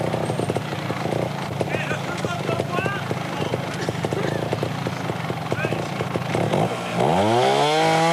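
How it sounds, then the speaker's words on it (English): A trials motorcycle engine buzzes steadily as it revs on a sandy course at Hawkstone Park during a 1995 World Trials Championship round, loud and continuous beneath commentary, then rising in pitch near the end. "Just clearing the motor out."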